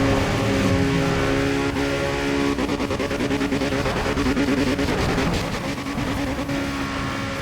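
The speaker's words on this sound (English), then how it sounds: "I can hear them bouncing off their limiters" Racing car engines in Need for Speed ProStreet scream at high revs and stutter against their rev limiters, a loud, continuous roar with rapid choppy pulsing and no talking.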